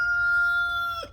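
A rooster crows loudly and close by on a cold mountain morning, one long sustained call that falls off at the end, alone without talk over faint background hiss.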